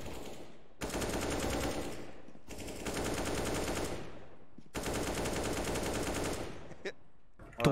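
Gunfire from shooting in CS:GO comes in three long, rapid bursts of automatic fire, loud and close, separated by short pauses, with a brief sharp sound near the end.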